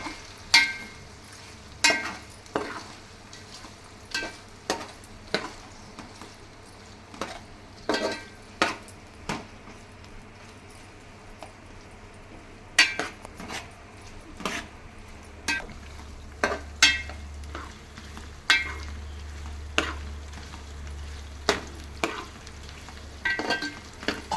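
Chicken pieces fry in hot oil in a pan for a Telangana-style chicken pickle, with a steady sizzle under repeated sharp scrapes and clicks as the pieces are stirred at an even rhythm, close up.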